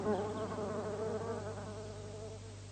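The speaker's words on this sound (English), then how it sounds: "The bee knows what is good for him." A bee buzzes around a rose as a radio drama sound effect, a steady, close, wavering drone that fades slightly toward the end, heard alone without voices.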